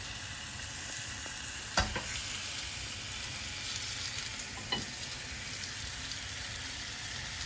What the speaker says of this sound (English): we can now add our beef back into the mixture and finish that to cook, as we left it pretty rare. Put that back on the fire.